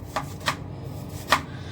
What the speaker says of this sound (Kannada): ಟೊಮೆಟೊ ಮಾತ್ರ ಚಿಕ್ಕ ಚಿಕ್ಕದಾಗಿ ಕಟ್ ಮಾಡ್ತೀನಿ ನಾನು.